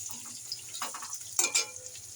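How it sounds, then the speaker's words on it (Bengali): Potatoes fry in oil with turmeric in a pan, a soft sizzle broken by a couple of brief scraping stirs near the end, with no one talking. "এবার একটু আলুগুলো ভালো করে আমি ভেজে নেব।"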